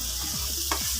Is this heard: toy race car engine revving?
no